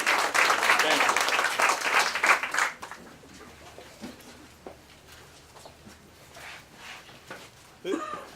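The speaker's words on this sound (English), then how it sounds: "would you just stand up so we can all thank you with a round of applause?" Audience applause thanking volunteers at a community campaign event, a dense burst of clapping for a few seconds that stops abruptly, followed by quieter room noise and a voice starting to speak.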